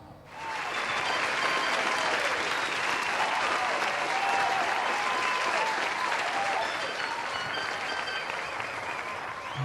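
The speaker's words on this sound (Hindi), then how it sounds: "तालियां बजती रहनी चाहिए" A crowd at a sangeet wedding celebration claps loudly and continuously, a dense sustained roar of hands from start to finish with a faint murmur of voices underneath.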